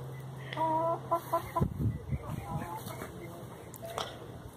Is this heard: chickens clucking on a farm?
yes